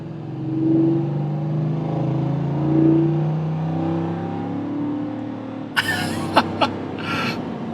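A 2025 Ford F-150 Tremor with a V8 pulls away at about three-quarter throttle, the engine note droning and rising steadily in pitch, followed by a few sharp clicks or knocks near the end.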